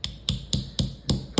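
Six sharp taps set a part back into place on a Smith & Wesson Kit Gun .22 revolver, evenly spaced and close, each a crisp metallic knock.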